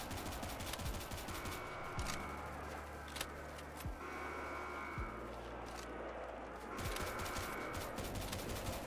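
Rapid bursts of DMR gunfire in a Roblox first-person shooter, several sharp repeated shots spaced across the stretch over a dense, busy game soundscape with steady background noise.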